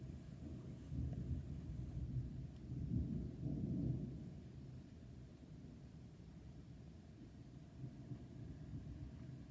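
Low thunder rolls through a thunderstorm, a broad rumble that swells from about two to four seconds and then settles into a steady distant murmur. No one speaks.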